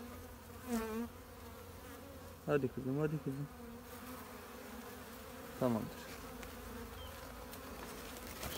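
Honeybees buzz steadily as a colony is gathered into a sack, a continuous droning hum under soft coaxing speech, with a few louder close-up buzzes from individual bees passing near.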